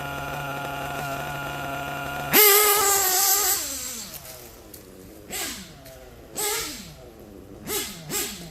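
Out-of-tune RC nitro engine buzzing at a steady high idle, then blipped sharply to a loud scream and dropping back to a high idle, with several shorter throttle blips following, close by.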